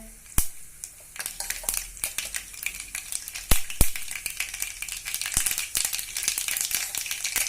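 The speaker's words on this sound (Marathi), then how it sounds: "तेल तापलंय मोहरी घालूया मोहरी तडतडली की थोडस जिरं घालणार आहे" Mustard seeds spluttering in about two tablespoons of hot oil in a kadhai, as the base for a Konkani-style radish-leaf dish, with loud sharp pops scattered over a continuous close sizzle.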